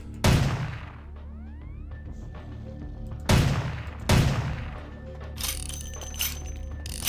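Three sharp, loud gunshots with ringing tails ring out in Vampire: Bloodlines inside a madman's mansion, spaced irregularly, with a few softer clanks and rattles afterward and no talking.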